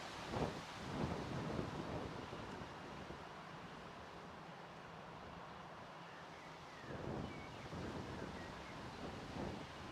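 Wind gusts across the microphone at Manchester Airport on a warm afternoon, a faint, steady rushing that swells briefly at the start and again near the end.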